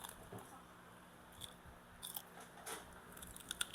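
Crisp bites into a fresh mango, a few short crunches and soft wet crackles close to the mic, quiet overall with faint room noise between them.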